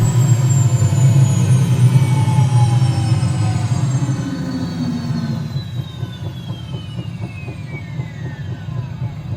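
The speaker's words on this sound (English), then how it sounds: "The rotors will slow down quite quickly." Bell 206 helicopter engine and rotors spool down in a flight simulator: a loud turbine whine slides steadily lower while the rotor noise fades, leaving a softer, pulsing rotor beat toward the end.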